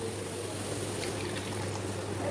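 Water is poured into a mustard masala in a home kitchen, giving a steady, soft splashing trickle that runs evenly through the whole short stretch with a low background hum and no talking.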